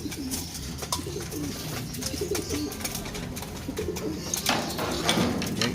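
Pigeons coo and flutter close by as they are fed a flyer seed mix, a continuous murmur of soft cooing with occasional wingbeats and no talking.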